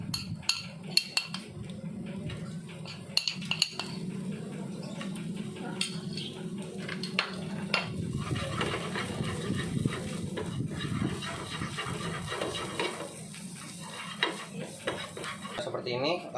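Onion and garlic sautéing in a pan, with a steady soft sizzle under repeated clinks and scrapes of a utensil stirring against the pan, close and continuous throughout.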